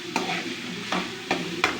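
Ingredients being sautéed in a pan, with a steady low sizzle broken by four sharp scraping stirs of a spatula, close and fairly quiet, no voices.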